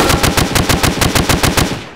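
A Vector submachine gun in a GTA video game fires in one loud, continuous burst of rapid automatic shots with an even, fast rhythm, heard alone for about two seconds.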